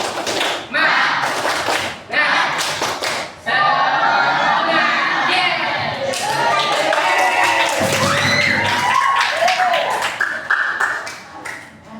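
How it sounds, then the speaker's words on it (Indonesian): A classroom of pupils performs a rhythmic group clapping routine, with loud bursts of claps interspersed with chanting voices for several seconds. "Tepuk semangat."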